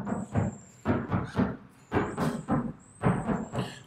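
Insulated side panel of a Volkswagen Transporter van knocked repeatedly at close range, giving dull, damped thuds in uneven bursts, with a faint high steady whine running beneath.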